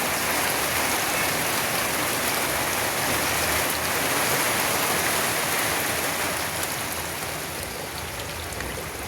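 Heavy rain pours steadily at home during a downpour, a dense unbroken hiss of water striking surfaces, loud and constant throughout with no voices.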